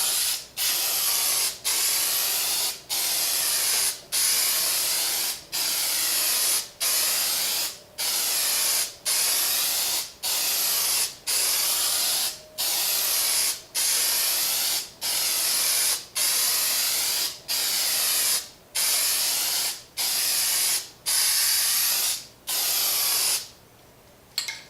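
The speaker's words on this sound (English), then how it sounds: "Now with Plasti Dip, it comes out very like splatty." A Plasti Dip aerosol can hisses in long, steady bursts, roughly twenty in a row, each separated by a short pause, close and loud with no talking.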